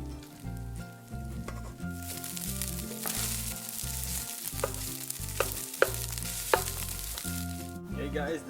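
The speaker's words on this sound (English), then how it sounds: "Let's fry it up a little bit." Garlic and cooked rice frying in olive oil in a pan, a continuous close sizzle with occasional spatula scrapes. Steady music plays underneath throughout.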